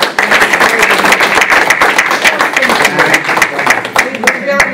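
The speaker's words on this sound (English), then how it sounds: "I would just like everybody to just give a nice round of applause" Room of people at a school district board of education meeting applauding the superintendent's birthday, close, loud, crisp clapping in a steady dense rhythm throughout.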